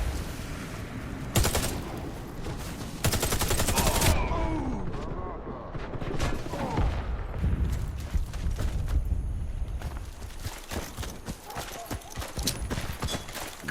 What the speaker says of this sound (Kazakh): Кидаю гранату!